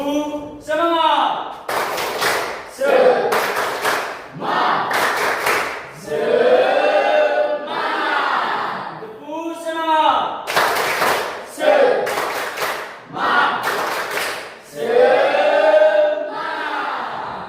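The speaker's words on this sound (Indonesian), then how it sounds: "mari kita kasih sedikit tepuk semangat." Classroom of students doing a rhythmic spirit clap, loud sharp bursts of clapping in a repeating pattern alternating with chanted voices, close and lively.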